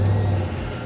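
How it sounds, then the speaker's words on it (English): A Chevrolet Tahoe High Country's 6.2 liter V8 remote starting on an icy day, a steady low engine hum with a brief stronger rumble at first, close and continuous, with no talking. "I'm gonna go ahead and remote start the truck, let it warm up a bit before we head out."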